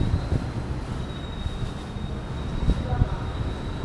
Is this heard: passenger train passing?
yes